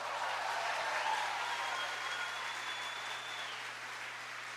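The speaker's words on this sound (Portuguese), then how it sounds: "você vai aplaudir ele aqui agora" An audience at a Portuguese-language church service applauds in a steady, sustained wash of clapping that fades slightly toward the end, with no speech over it.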